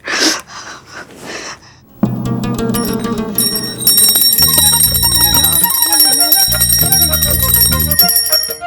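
A bell rings loudly and repeatedly over music, after a few seconds of breathy sounds at the start.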